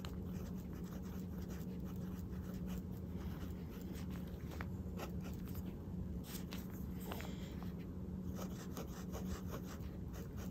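A Lamy Al-Star fountain pen with a fine nib scratches across paper in a steady run of soft, close strokes, with a continuous low hum beneath.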